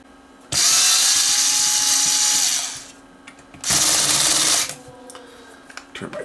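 Power driver backing screws out of a Sanyo DCX4000 receiver circuit board on a workbench: two loud, close whirring bursts of about two and three seconds each, separated by a brief pause, with faint clicks between and after.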